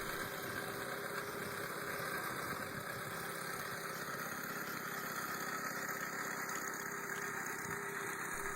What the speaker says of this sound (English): riding garden tractor is built around a standard twin-cylinder engine from the 1940s to early 1950s